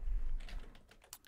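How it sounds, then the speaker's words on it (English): A few quick keystrokes on a computer keyboard, faint and close, a short cluster of light taps following a low rumble. "we can press the letter B on our computer keyboard"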